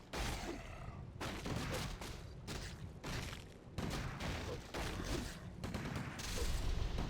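Rifle fire in a real-time strategy game battle, rapid rattling volleys that stop and start with brief gaps, fairly dense and steady throughout, with no talk over it.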